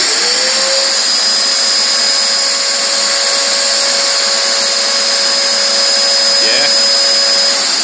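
A two-stroke engine on lawn care equipment, with an automatic choke and running on two-stroke mix, catches from a cold start and revs up quickly, then holds a loud, steady, high-pitched buzzing whine with no talking.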